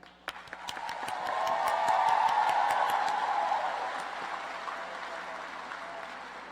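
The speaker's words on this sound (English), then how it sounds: "Please join me in applauding them." A commencement crowd at North Carolina Central University's 2017 winter exercises applauds its honorees, the clapping swelling quickly into a full, steady ovation that holds for several seconds before easing slightly.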